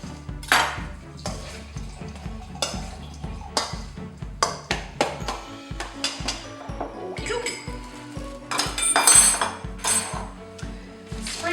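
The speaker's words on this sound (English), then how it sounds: "I might just cut them a bit because they mix up a bit better if they're cut." In a home kitchen, a knife cuts ingredients for yum cha filling on a board: a run of quick, regularly spaced taps mixed with sharper clinks of utensils and dishes, close and moderately loud, with no speech.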